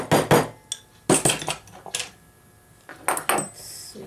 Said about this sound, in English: And you just get your snips out.